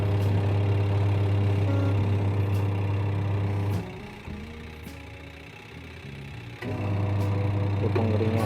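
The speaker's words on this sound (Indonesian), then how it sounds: "mesin cucinya normal kembali." A washing machine runs after a capacitor replacement: a steady motor hum with a strong low drone that drops away briefly mid-clip before the motor picks up again, close and without speech.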